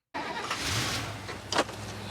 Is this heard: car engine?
yes